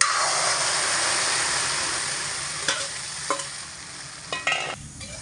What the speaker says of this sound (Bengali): উনানটা ধরিয়ে একটা কড়া বসিয়ে দিয়েছি, কড়ার মধ্যে বাসি ডালটা ঢেলে দেব